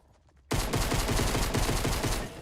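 Rapid video game gunfire bursts in after a brief quiet start, a loud, dense string of shots that keeps going to the end.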